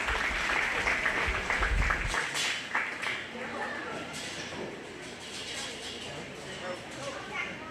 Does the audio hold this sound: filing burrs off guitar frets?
no